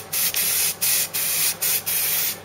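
Filler primer sprays from an aerosol can onto the metal of a Ford Cortina GXL under restoration, in five loud, close hissing bursts with brief pauses between, and no voices.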